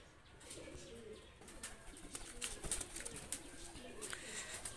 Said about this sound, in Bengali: এটা হলো স্কুলওয়ালা গোল্ডেন পেয়ার, খুবই সুন্দর কোয়ালিটি কবুতর